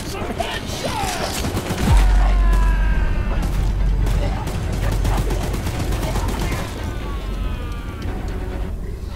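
A mounted gun fires in the video game Choo Choo Charles, a loud, sustained burst of rapid shots with booming impacts and mechanical clatter. Shouting voices are partly buried in the gunfire.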